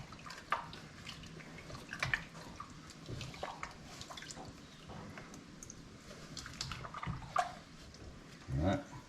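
Water running over concrete-covered gloves as they are washed off, a soft trickle with scattered drips and splashes, fairly faint and close, ending in a brief louder splash, with no voices.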